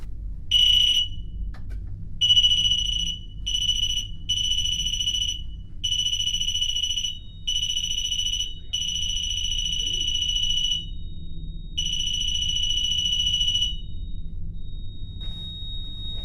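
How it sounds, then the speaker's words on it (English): A door alarm beeps in a series of high, piercing electronic tones, short bursts then longer sustained stretches broken by brief gaps, over a low background rumble with no talking. "Okay, John, we're gonna put this alarm on your door."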